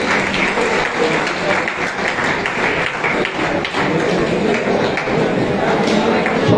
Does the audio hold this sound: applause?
yes